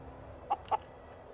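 Chickens in the survival video game Surviving The Aftermath give two short clucks over a quiet ambient background.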